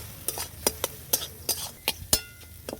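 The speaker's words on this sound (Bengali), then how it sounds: "আমি ডিমগুলো কড়াতে আমি একদম ধুয়ে ধুয়ে করে ভেজে নিচ্ছি" Eggs frying in a kadai (wok), with a spatula scraping and clinking against the pan in quick irregular strokes over a low sizzle, close and without any talk.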